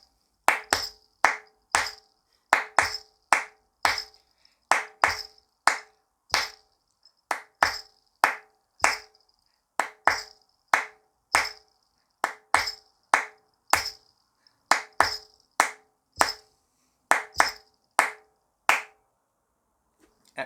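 Hands clap out a steady drum rhythm pattern, sharp close claps grouped in a repeating phrase that cycles for about twenty seconds with brief pauses between groups and no talking.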